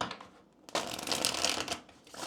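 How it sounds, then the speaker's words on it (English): A deck of tarot cards is shuffled close by: a short, dense rustle and flutter of cards lasting about two seconds, with no talking. "Let me get a shuffle in here."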